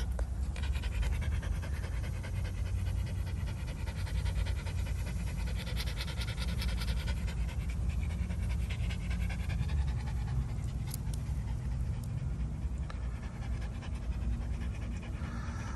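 Steady, rapid dog panting close by on a walk, continuous breaths carrying on for the whole stretch over a low rumble of outdoor background noise.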